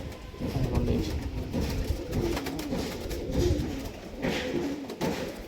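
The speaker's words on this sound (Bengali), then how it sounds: "এই যে কালার করা পায়রা সব উড়ানো পায়রা" Flock of coloured, tagged flying pigeons kept for sale cooing continuously at close range, a dense overlapping chorus of low throaty coos with steady loudness throughout.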